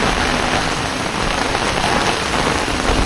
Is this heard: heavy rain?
yes